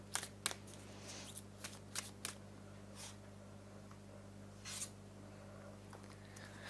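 Tarot cards being handled and shuffled close up, with quick papery flicks and soft slaps in irregular bursts over a low steady background hum.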